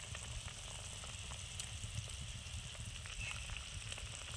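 Vegetable curry with hog plum bubbling in a pan, a steady low simmering hiss with small crackles running throughout, fairly faint and alone without talk.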